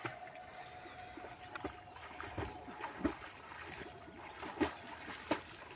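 A girl swimming in village water, with light, irregular splashes and paddling strokes, quiet and fairly close, over soft ambient background.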